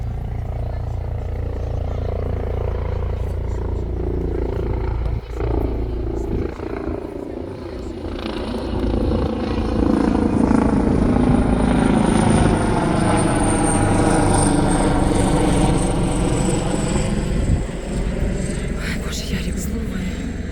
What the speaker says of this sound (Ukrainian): якісь самольоти тут, вертольоти літають.